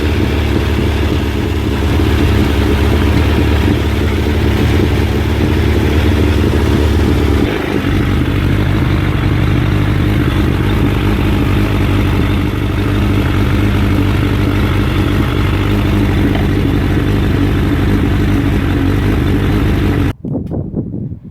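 A Suzuki Bandit GSF1200 Mk1 motorcycle engine, fitted with new coils, runs steadily at raised revs, loud and close, with a slight drop in pitch partway through before cutting off near the end.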